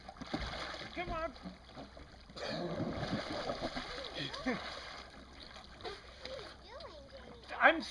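A small kayak takes on water and sinks, with irregular splashes and sloshing close by, broken up by excited voices talking and shouting over the water.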